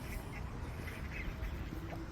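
Ducks or Canada geese quacking on Lafarge Lake in Coquitlam, BC, a steady chorus of several birds at moderate distance over outdoor background noise.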